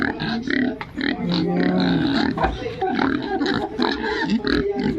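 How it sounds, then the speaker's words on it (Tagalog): Pigs grunting close by in a farm pen, a steady mix of low grunts and snorts throughout, with a person speaking over the animals. "Ito lang po mga baboy."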